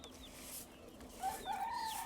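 Chicks and chickens cluck softly nearby at a poultry farm, with a rising, drawn-out call near the end over low background noise.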